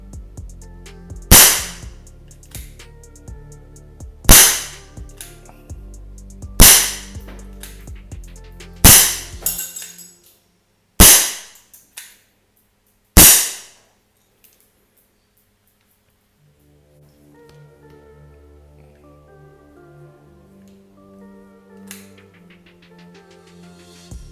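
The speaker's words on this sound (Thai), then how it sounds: "เดี๋ยวต่อไปจะยิงอย่างเดียวแล้ว ความแม่นยำก็ เนื่องจากปืนมันแรงนะ" A Wingun 701 BB gun fires six loud, sharp cracks spaced about two seconds apart, then near silence and a faint low rumble toward the end, with no voices.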